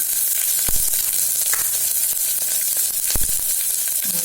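Onions fry for sambar in a loud, dense, steady sizzle close by, with two sharp thuds of a spoon or ladle against the pan; no speech.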